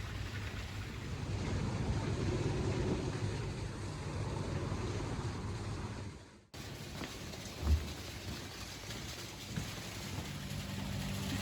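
Water rushing through the spillway of a lake dam in Rocky Gap State Park, Maryland, a steady broad roar heard near and loud, briefly dipping then resuming with a few small knocks; no one speaks.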